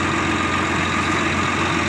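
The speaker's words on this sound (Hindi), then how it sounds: "ये हमारे भाई साहब जा रहे हैं आज ट्रैक्टर लेके स्वराज 855" A Swaraj 855 FE tractor engine idles steadily at close range, a continuous low rumble with an even, unbroken drone and no voices over it.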